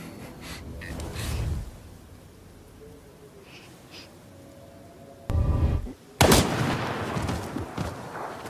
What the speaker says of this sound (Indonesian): Hinako menembak Utsubo hingga terkapar